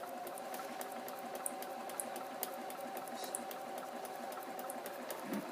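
A sewing machine runs a straight seam in a steady, fast mechanical whir with rhythmic ticking from the needle, close and even throughout, with no talk.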